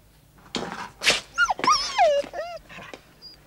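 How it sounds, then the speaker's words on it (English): A dog whimpers and whines in a string of high, wavering cries and short yelps, close and clear, with no speech. "Haven't you got rid of this darn useless dog yet?"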